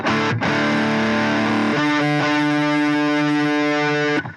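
An electric guitar is played through a Pro Co Rat distortion pedal into a Fender Bassman model on a Line 6 POD Go, heavily distorted and fuzzy: a chord rings, then a sustained chord holds loudly for a few seconds before cutting off.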